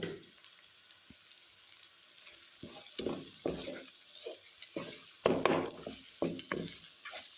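Ground spices added to hot oil in a pot for tuna rice, with soft sizzling and a series of stirring scrapes and knocks that grow busier toward the end, close and fairly quiet.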